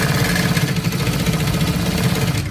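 A sewing machine runs steadily along the edge of a trouser, a loud, close, continuous rhythmic motor whir with a fast even pulse and no talking.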